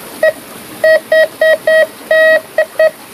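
A metal detector hunting for treasure beside an old Dutch-era building in Java gives a series of loud, clear electronic beeps, eight pulses of varying length with short gaps, over faint background noise.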